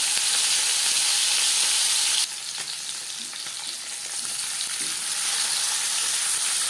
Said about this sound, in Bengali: 4 চামচ রিফাইন্ড অয়েল গরম করে নেওয়ার পর দিয়ে দিলাম ম্যারিনেট করে রাখা মাছ।